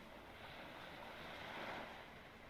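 Ocean waves in a video game's seaside ambience wash softly and steadily with a faint breezy hiss, swelling slightly midway, quiet and unbroken by any voices.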